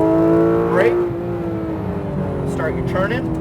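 Porsche GT3 RS engine on a race track, a steady harmonic drone with pitch slowly falling, heard inside the car under an instructor's spoken directions.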